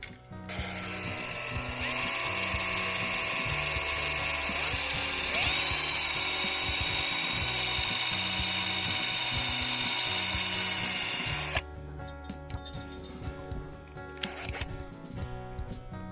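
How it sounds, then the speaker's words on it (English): A small power drill bores holes in a homemade pike fishing lure, a steady high-pitched whine lasting about ten seconds, close up, followed by quieter handling clicks and a short burst of drilling. "So the hook, I guess, will sit like that. So let's drill those holes"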